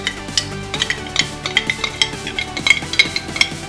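Sweet potato muffin batter stirred in a bowl, with a steady run of close, repeated scraping strokes and soft clinks of a utensil against the side, rhythmic and continuous without any talking.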